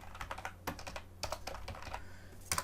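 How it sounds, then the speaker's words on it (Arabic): Quick bursts of keystrokes on a computer keyboard as an email address is typed, light clicks in short uneven runs separated by brief pauses, close and clear with no voices. "وبعد كده نكتب هنا ايميل"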